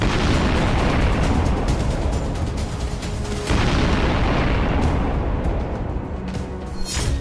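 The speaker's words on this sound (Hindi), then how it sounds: "डोनबास में फाइटर ड्रोन के धमाके।" Loud, dense explosions from drone strikes in the Donbas war rumble continuously, with repeated heavy booms and bursts layered over one another and a few sharper cracks toward the end.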